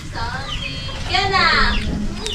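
A Talisayin gamecock rooster, a backyard fighting bird with three wins, gives a close, loud crow with a rising and falling pitch lasting about two seconds.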